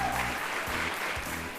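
An audience applauds briefly, a short burst of steady clapping that stays even and then eases slightly, with a faint voice underneath.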